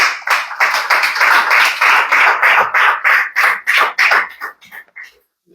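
A church congregation applauds during a Sunday Spanish-language service, a burst of many hands clapping in uneven rhythmic waves that thins out and stops near the end.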